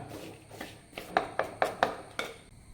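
Snake gourd with chilli, coconut, turmeric, curry leaves and salt stirred in a pan, a spoon scraping and clinking against the metal in about six quick, fairly close strokes with no talk.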